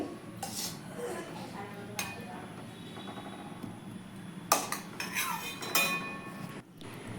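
Metal utensils clink and scrape against a pan as sarbhaja sweets are lifted from syrup, giving scattered near taps over a steady low background hum.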